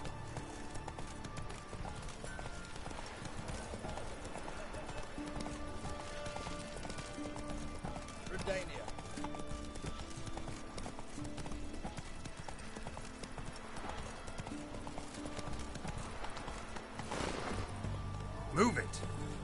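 Roach the horse gallops across the terrain in The Witcher 3, a steady drumming of hooves under ambient game sound with a voice speaking over it, and a sharper thud close to the end.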